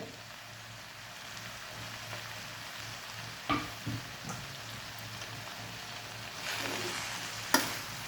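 Amaranth greens and onion stirred and frying in a pan, a steady soft sizzle running throughout with a few scraping clinks of the spoon, no talking.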